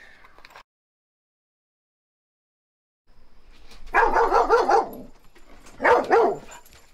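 A dog barks in two quick bursts of several loud, close barks, the first cluster longer, separated by a short pause, with a quiet room behind.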